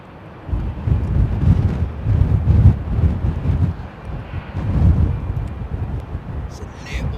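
An airliner rotates on takeoff at London Heathrow in blustery weather, its deep engine rumble swelling and fading in gusts, mixed with wind buffeting the microphone.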